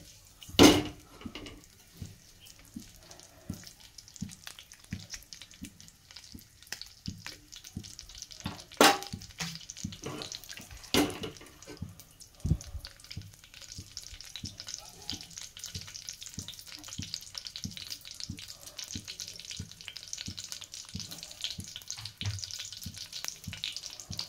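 Half an onion frying in a pan, a steady close sizzle under repeated stirring scrapes, with a few sharper clatters of utensil against the pan.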